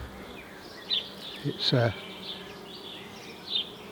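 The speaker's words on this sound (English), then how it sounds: "There's some nice bees there, nice and friendly." Honeybees buzz steadily around an open hive frame full of eggs, a close, continuous drone with a few louder passes, while a man briefly mutters nearby.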